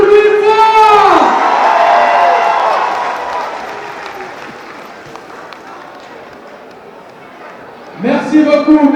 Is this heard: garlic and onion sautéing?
no